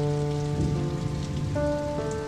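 Heavy, wind-driven rain falls steadily as a continuous wash of noise, with sustained musical tones playing over it throughout.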